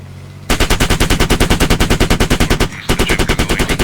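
A BTR armoured vehicle's gun firing in a video game, loud rapid bursts of evenly spaced shots close by, one long stream, a brief pause, then another burst.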